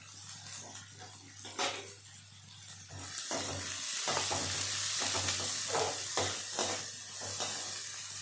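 Thinly sliced onions hit hot oil in a pan for chicken fried rice, raising a loud, steady sizzle that swells once they go in, with close scraping stir strokes throughout and no talking.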